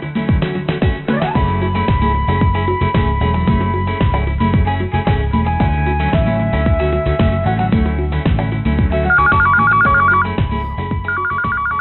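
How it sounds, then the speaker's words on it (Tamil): A telephone ringtone rings loudly and continuously for about twelve seconds inside a shop, its repeating electronic melody steady and close with no talk over it. "போன் அடிக்குது எடு"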